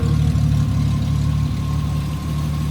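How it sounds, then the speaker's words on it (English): A 1974 Triumph TR6 engine idles steadily and smoothly, a low continuous hum with a faint mechanical whine, fairly close and unchanging throughout. "Engine's running nice and quiet."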